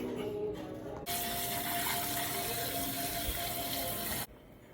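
Tap water runs steadily into a kitchen sink while peeled potatoes are washed, a loud, continuous close rush that starts abruptly, holds for about three seconds and cuts off.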